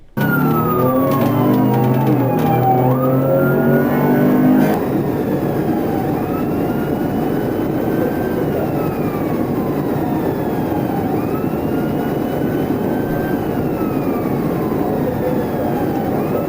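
A police car chases a speeding car through traffic at over 100 mph, its siren wailing in rising and falling sweeps over loud engine and rushing road noise, strongest in the first few seconds and then a steadier wail.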